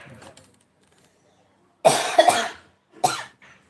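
Several close, sharp coughs in two bursts, the first a rapid cluster and the second a single hack, after a quiet stretch with faint background sound.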